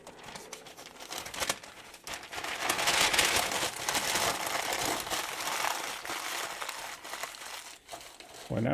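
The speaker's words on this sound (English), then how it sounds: "crumpling them up and stuffing them down." Sunday newspaper advertising inserts crumpled by hand and stuffed down into a container, a steady loud crinkling and rustling that swells and lingers for several seconds, with faint voice traces.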